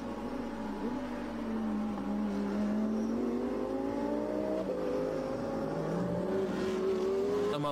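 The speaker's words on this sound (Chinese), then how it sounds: "我们现在镜头所对的这台601号赛车刚刚已经是完成了对666号赛车的一个超越" GT3 race cars scream around a circuit during a race, their engines rising and shifting in pitch as they accelerate, heard at a moderate distance as a continuous layered whine.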